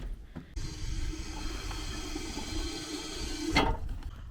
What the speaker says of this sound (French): Et le point d'eau fonctionne.